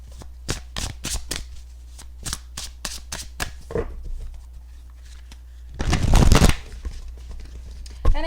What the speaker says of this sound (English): So let me just shuffle the cards for you guys so you guys can see.